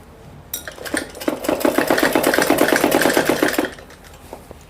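A sewing machine stitches a Patiala salwar in a short, fast burst of regular needle clatter lasting about two and a half seconds, close and clear, with quiet room sound before and after and no talking.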